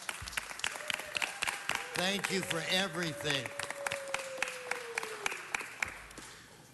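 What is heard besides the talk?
audience applause at city council meeting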